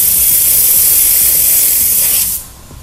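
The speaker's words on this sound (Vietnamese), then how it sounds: "Lắc đều trước khi sử dụng để mà xịt lên dưỡng sên lên cái sên cho ảnh." Motorcycle chain lube sprayed from an aerosol can onto the drive chain of a Ninja 400, a loud, steady close hiss lasting over two seconds before cutting off abruptly.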